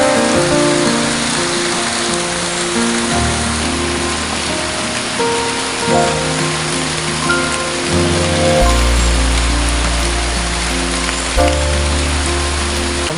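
Steady rain pours down on a farm during tree planting, a loud unbroken hiss of drops on surfaces, with a low tonal background running underneath.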